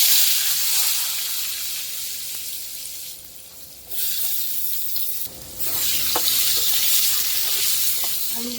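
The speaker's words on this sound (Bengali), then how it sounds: "আলুগুলা একটু ভেজে নিব" Potatoes frying in oil left over from frying pabda fish: a loud, continuous sizzle that briefly dips twice as the food is moved, with light clicks of a spatula stirring near the end.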